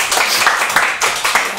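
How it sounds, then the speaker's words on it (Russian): TV studio audience breaking into applause for a chef guest, a loud, dense wash of many hands clapping close by, steady throughout the short burst. "Ваши аплодисменты!"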